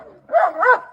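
Dog barking in a comedy sketch, two short close yelping barks in quick succession, loud and alone without talk.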